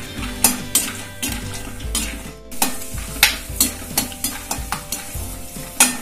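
Almonds are stirred and fried in a pan, a spoon scraping and clinking against metal in repeated strokes over a soft continuous sizzle, close up, with no talking.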